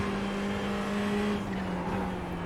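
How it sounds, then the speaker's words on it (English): Ferrari race car roaring past in a racing video game at Road Atlanta at sunset, a steady engine drone with a sustained pitched whine that shifts slightly as it passes close by. "This Ferrari gets past me."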